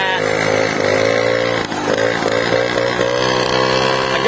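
A Caloi moped's small two-stroke engine runs steadily and loud up close, a buzzing drone with one brief dip in revs around the middle before it picks back up.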